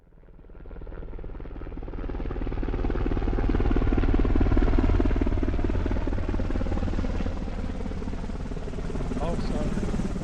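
A Vietnam War-era Huey helicopter roars overhead, a dense, rumbling rotor and turbine din that swells in over the first few seconds and then holds loud and steady, thudding blade chop running underneath.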